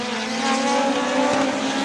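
Race cars roar down the backstretch of an oval track in the late laps of a NEMA event, a loud, steady engine drone with rising and falling pitch throughout, no voices.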